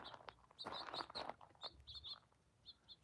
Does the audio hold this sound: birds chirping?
yes